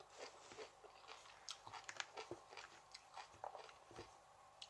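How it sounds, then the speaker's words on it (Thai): Close crunching and chewing of Thai cucumber salad eaten with fried eggs, omelette and rice, with irregular bites and wet mastication sounds repeating steadily and no voices. "มาแม่บ้านมากินตำบักแตงครับกับไข่ดาวกับไข่เจียวกับข้าวเจ้า"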